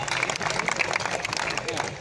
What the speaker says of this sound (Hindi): कुछ तालियां बजी हैं जिन्होंने सुना है।